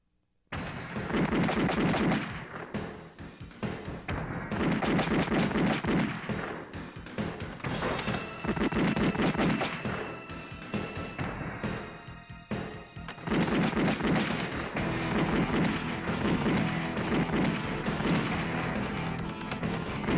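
Gunfire from a Filipino action film starring Phillip Salvador and Sunshine Cruz: dense, loud bursts of heavy shots and booming blasts run almost continuously for about twenty seconds, with no speech.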